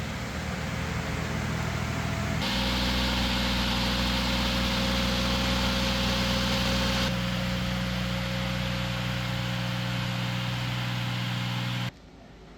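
An old 1JZ engine in a Nissan 240SX S13 idles steadily, a constant low drone with a thin whine over a broad hiss, close and continuous before cutting out abruptly at the end.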